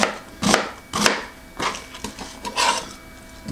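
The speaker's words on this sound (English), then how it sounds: "chop this onion up" Knife chopping an onion on a cutting board for a potato-based slow cooker dish, a few distinct close thuds at an uneven pace with quiet gaps between them.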